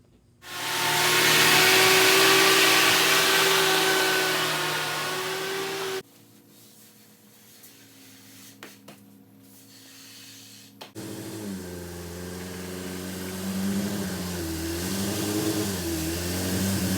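A 1960 MGA speedster's engine revs hard and loud, then drops away to a lull before settling into a steady running drone with rising and falling pitch as the car moves.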